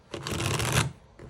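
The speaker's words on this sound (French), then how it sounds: "vous m'excuserez pour le bruit des cartes" A deck of oracle cards is shuffled once, a close, dense riffling rush lasting under a second, followed by a couple of soft taps.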